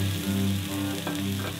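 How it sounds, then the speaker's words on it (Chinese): Fish fin pan-fried in a wok, heard as a loud, steady close sizzle with brief stirring scrapes and no voices. "喺只鑊嗰度煎香佢。"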